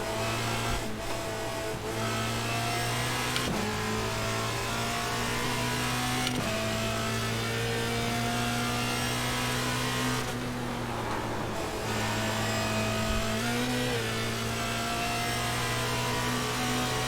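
Racing car engine in a sim racing video game, a fairly quiet, steady droning engine tone with shifting pitch and brief breaks as gears change, heard on its own without talk.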